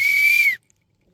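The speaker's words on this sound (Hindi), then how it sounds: "तो शुरू करने के लिए पहला सीटी बजाएंगे" A single sharp whistle is blown to start a spin-the-wheel game, holding one steady shrill tone for about half a second before cutting off cleanly into silence.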